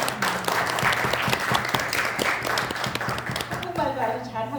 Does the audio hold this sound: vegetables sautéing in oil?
no